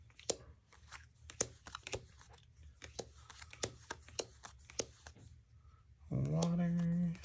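Board game cards shuffled close up during a solo tabletop session, a string of crisp riffling snaps and taps, followed at the end by a short burst of someone talking.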